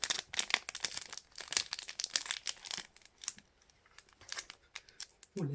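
Foil Pokémon Celebrations booster pack being crinkled and torn open, a dense run of sharp crackling rustles that thins out toward the end, close to the mic.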